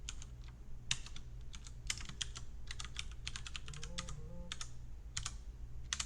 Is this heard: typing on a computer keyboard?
yes